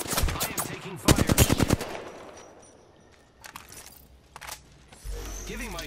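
Video game gunfire striking the player, rapid bursts of automatic shots near and loud at the start, then scattered fainter shots and a low rumble near the end.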